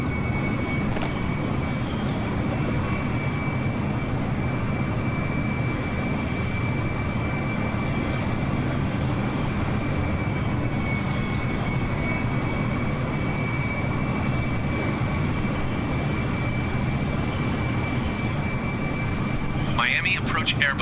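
An Airbus airliner approaching Miami airport gives a steady, loud engine drone for the whole stretch, with radio voices over it.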